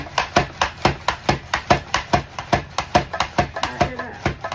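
Bell peppers and celery stalks being cut in a chute slicer set thin, giving a steady, rapid run of about twenty sharp rhythmic chops, close and loud, with no talking.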